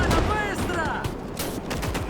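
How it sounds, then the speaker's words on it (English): Dense rifle and machine-gun fire with bullets striking all around fills a World War II Winter War battle at the Mannerheim Line in the Gates of Hell game, a continuous loud crackling barrage of overlapping shots. "Bullets landing everywhere here."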